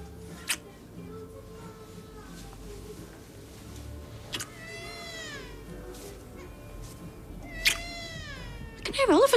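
A voice imitates cats, giving three drawn-out, rising meows spaced a few seconds apart, the last one longest and loudest, close by in a quiet indoor room with brief speech in between.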